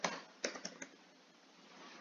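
A few quick keystrokes clatter on a computer keyboard, close and crisp, followed by a faint hiss of room noise with no speech.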